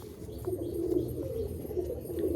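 Large Katagaddan Mukho pigeons coo steadily nearby, a low soft murmur running continuously without pause, with faint chirps above.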